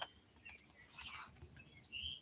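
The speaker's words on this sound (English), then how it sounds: "I know I want to hear the birds" Birds chirp and sing outdoors in short, high tweets and trills scattered across a quiet background, fairly distant and soft, with no voices.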